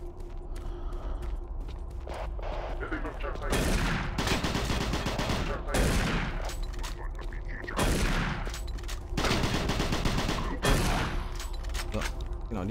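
Gunfire in Doom 3 (Switch edition): several loud bursts of rapid shots arrive in regular waves every couple of seconds over a mechanical background hum.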